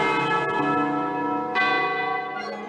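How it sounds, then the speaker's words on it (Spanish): A church bell chimes from a clock tower, ringing with a long resonant decay and then struck again partway through, loud and close with no voices. "Los encuentros podían hacerse al momento de las campanadas."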